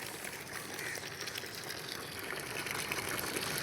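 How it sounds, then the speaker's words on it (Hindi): Continuous splashing and gushing of soapy detergent water while cleaning solar panels, a steady wet churning with bubbling texture, fairly close and with no talking. "सर्फ़ वाला पानी है ये"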